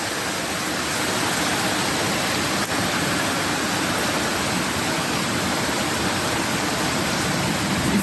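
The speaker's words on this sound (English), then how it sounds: "Lots of rain." Heavy rain pours down steadily on hilly ground, a dense, loud, even hiss that continues without a break, with no voices present.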